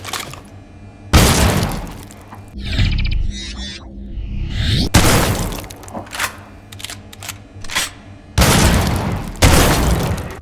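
Shotguns firing in first-person shooter video games, including Shadow Warrior, several loud blasts in a row, each with a heavy boom and decaying tail, interleaved with mechanical reloading clacks and clicks.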